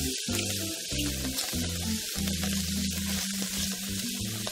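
Garlic sizzling in a hot pan for beef stroganoff, a steady close frying hiss with soft stirring and pan noises underneath.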